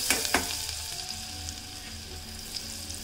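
Chopped garlic fries in oil and butter in a pan, a dense, close, steady sizzle with a couple of sharp pops at the start, no voices.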